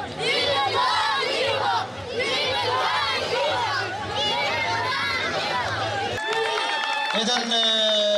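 Crowd at an outdoor football tournament match, shouting and chattering loudly and continuously up close, with overlapping voices that surge and then give way to a sustained tonal horn near the end.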